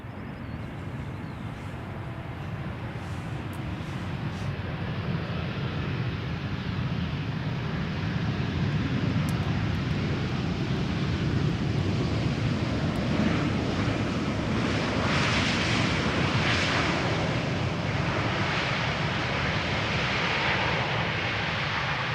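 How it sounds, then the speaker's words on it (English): An EasyJet Airbus A320neo jet arriving from Gatwick at Amsterdam Schiphol on a sunny day, a steady broad roar that swells gradually and holds loud, with wind buffeting throughout. "EasyJet A320 Neo,"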